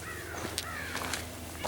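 A raven calling in Cheseboro Canyon, a few short harsh croaks spaced apart over a steady low background hum, fairly faint.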